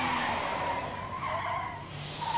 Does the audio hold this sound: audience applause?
no